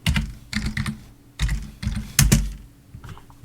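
Fingers typing on a computer keyboard in short clustered bursts of crisp key clicks, near and fairly quiet, with brief pauses between groups of keystrokes.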